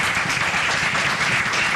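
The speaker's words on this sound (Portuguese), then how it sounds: "Uma salva de palmas aos nossos convidados." An audience at a clinical session gives continuous, dense applause for its guests, a steady wash of many hands clapping at a constant level.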